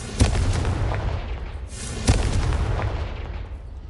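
Two booming blasts of the Confringo explosive spell cast in the video game Hogwarts Legacy, one near the start and one about two seconds later, each followed by a rumbling tail over a noisy game backdrop.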